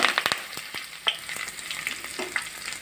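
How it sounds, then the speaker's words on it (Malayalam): Mustard seeds and curry leaves sizzle and crackle in hot oil, with sharp popping bursts over a steady frying hiss, fairly close and alone with no talking. "ഇനി കടുക് ഇടുവാണേ. 1 സ്പൂൺ കടുക്, കറിവേപ്പില ഇട്ട് കൊടുക്കുക."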